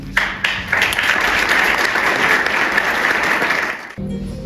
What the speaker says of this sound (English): And I also will ask you to applaud Professor Ashur for all his efforts.